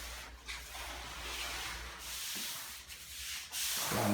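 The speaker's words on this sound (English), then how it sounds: "Scrubbing with a little bit of Dawn." Steady scrubbing of a concrete floor with Dawn dishwashing soap, a continuous abrasive rubbing that swells and dips in short strokes, close and fairly loud, with no talk.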